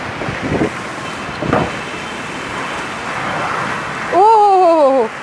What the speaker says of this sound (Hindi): तूफ़ानी बारिश हो रही है